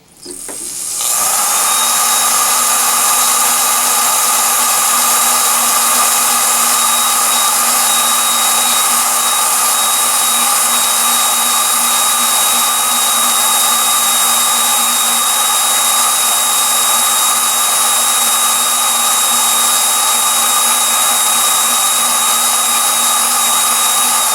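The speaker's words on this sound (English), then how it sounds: "I'm using a very fine sander here" A fine power sander works on leather, a loud steady high whine starting after a brief spin-up and holding unbroken for over twenty seconds with no talk.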